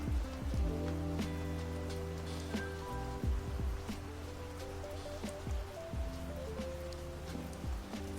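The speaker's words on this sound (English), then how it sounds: "The rain is too loud." Steady rain patters softly and continuously behind layered music tones, a faint even wash with no voices.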